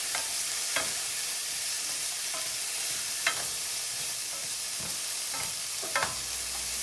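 Vegan taco filling sautéing in a non-stick pan, a constant bright sizzle with a few louder scrapes and tosses of stirring, close and with no talk.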